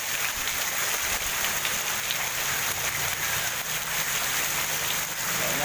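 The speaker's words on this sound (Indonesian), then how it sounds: "Soalnya hujannya masih berjalan." Heavy rain pours onto a flooded road, a dense, continuous hiss of drops spattering on water that stays loud and even throughout, with no voices.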